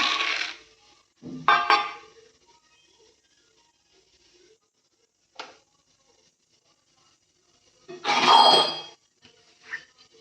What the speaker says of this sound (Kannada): ಒಂದು ಬಟ್ಲ ಶೇಂಗಾ ಹಾಕಿ